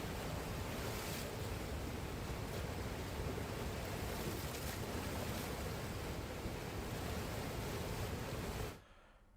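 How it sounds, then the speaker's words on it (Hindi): Flood-swollen river waves in Bihar surge in a loud, continuous roar with wind buffeting the microphone, with no voices, fading sharply in the final half second. "तस्वीर देखिए किस तरह से पानी की लहरें विकराल दृश्य दिखा रही हैं"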